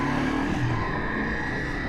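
A passing vehicle overtakes a Ducati Multistrada V4 motorcycle on a road in Croatia, a steady, loud rush of engine and wind noise that holds for a couple of seconds with no talking.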